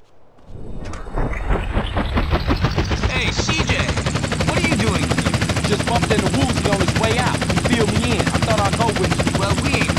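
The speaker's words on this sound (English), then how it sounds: "they're getting a helicopter to do a couple of flybys of the ship" Helicopter in the game GTA San Andreas thunders loudly and steadily throughout, its rotor chop close and sustained, with bursts of gunfire-like clatter mixed into the dense engine roar.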